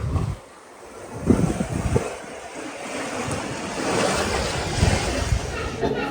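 A strong spring river rushes under a bridge in Yosemite, a loud, continuous roar of water with gusts of wind noise on the microphone.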